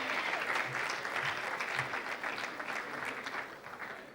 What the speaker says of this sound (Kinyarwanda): Amashyi cyane kuri Ruti.